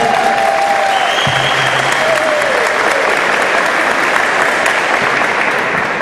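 Audience at a university rector-election debate breaks into sustained, dense applause that stays loud and steady throughout, with a few faint tonal sounds beneath it.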